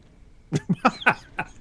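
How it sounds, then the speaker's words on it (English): A short burst of five harsh coughs in quick succession, close and fairly loud, breaking up an otherwise quiet moment in a casual tech podcast conversation. "I missed it. I was coughing."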